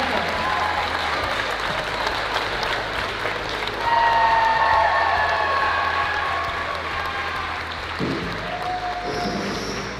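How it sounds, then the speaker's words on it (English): Audience applause fills a high school gymnasium-style ceremony at Worcester Academy honoring a jersey retirement, a steady crowd clapping with scattered cheers that swells midway and continues to the end. "Let's give a big round of applause to Aliyah Boston"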